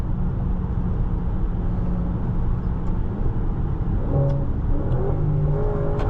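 A 2019 Maserati Levante Trofeo with a 590 hp engine pulls hard from inside the cabin, a steady engine drone rising in pitch near the end as revs build, with no talk.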